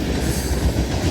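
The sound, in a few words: passing Norfolk Southern and CSX garbage freight train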